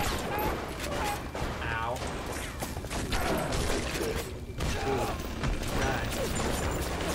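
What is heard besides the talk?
turret gunfire in the video game Bioshock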